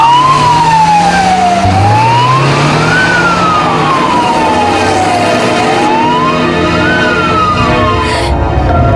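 An ambulance siren wails loud and near, its tone sweeping slowly up and down in long cycles over a low engine rumble.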